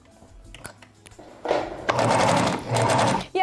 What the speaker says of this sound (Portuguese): Vira pro lado direito e vou rebater com outra costurinha então aqui no lado direito agora.